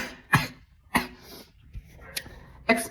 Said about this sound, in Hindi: खांसी हो गई है मुझे।